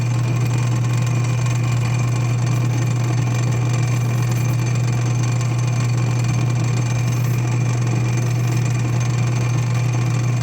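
A lapidary grinding wheel cuts through a piece of gemmy crystal opal, giving off a steady, unbroken motor hum with a faint gritty grinding layered over it the whole time.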